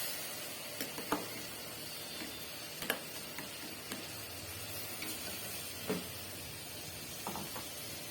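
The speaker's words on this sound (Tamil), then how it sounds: "இதை நல்லா மிக்ஸ் பண்ணி கொடுங்க, வதங்கட்டும்." A paste of ginger, garlic and fennel with tomato paste sautés in a pan for chicken biryani made in a pressure cooker, giving a soft, steady sizzle broken by a few light clicks and scrapes of stirring.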